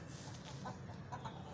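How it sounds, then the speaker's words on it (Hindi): Hens squabbling and fighting, giving a few short agitated clucks over a low steady background hum, fairly faint. "ये मुर्गियां आपस में लड़ रही ना"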